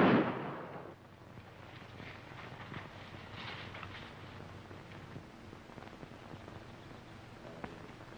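A single loud gunshot bursts out at the start of a 1949 film scene, followed by a steady hiss of background noise with faint scattered pops.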